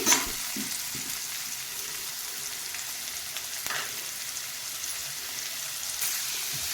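Chopped capsicum fries in a pan with a steady, soft sizzle, broken by occasional scrapes and clinks of stirring. The sound is close but fairly quiet, with no talking.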